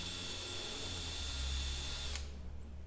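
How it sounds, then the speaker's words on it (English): Power drill boring through a steel retainer into the cross slide of a Craftsman 109 mini lathe, a steady close whine running for about two seconds before stopping abruptly. "and then drilling through it and into the cross slide itself"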